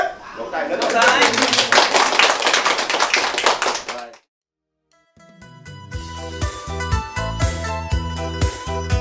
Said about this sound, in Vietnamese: Vỗ tay lớn lên.